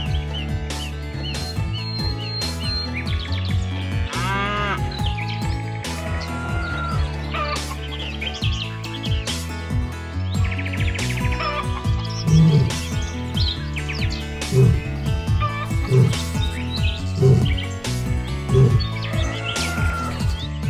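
Birds chirping and fowl clucking as farm animals gather for Noah's Ark in a children's Bible story, steady overlapping calls over a busy background with no clear mooing.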